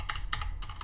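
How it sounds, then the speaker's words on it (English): A command is typed on a computer keyboard in about three quick bursts of clicking keystrokes, close and clear, with no talk. "go to CLI and type the single command"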